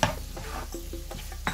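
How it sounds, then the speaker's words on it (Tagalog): A utensil scrapes and clinks against a pan while carbonara is stirred, with soft irregular strokes and light taps over a quiet background. "So, halo lang tayo. Halo!"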